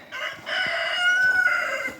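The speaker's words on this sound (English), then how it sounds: "The rooster's even pleased with me" A rooster crows loudly and close, a single drawn-out call with a rising, strained tone over a quiet background.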